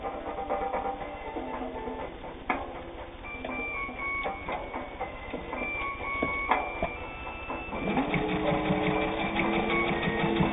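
Singer 201 sewing machine stitching through two layers of lightweight shirting, a steady close mechanical whir with ticking needle strokes that speeds up toward the end, with no voices.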